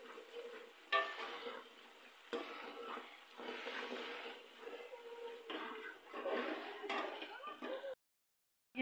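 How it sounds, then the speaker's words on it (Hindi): Masala is roasted and stirred in a pan in a home kitchen, with repeated scraping strokes of a spoon against the metal over a soft sizzle, fairly close and continuous. "ये मैं मसाला भून रही हूँ"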